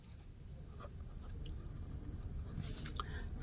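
A pen writes on paper while polynomial factors are worked out by hand. Quiet, steady scratching with a few short strokes, close and faint, with a soft background hiss and no talking.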